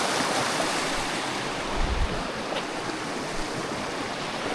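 A river flowing near a campsite on the Kungsleden trail: steady, broad rushing water noise, fairly close and constant, with light wind buffeting and no talk.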